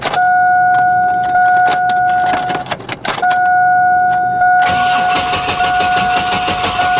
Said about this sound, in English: Boy, that starter sounds rough.